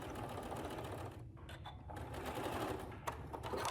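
A sewing machine stitching the pockets of a puffy quilt runs with a steady, fast mechanical chatter and briefly pauses partway before resuming, close and alone.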